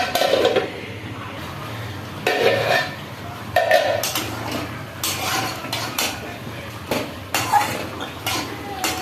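A metal lid goes onto a cooking pot of ridge gourd and potato curry with fish roe, making several close clanks and clatters among other utensil knocks.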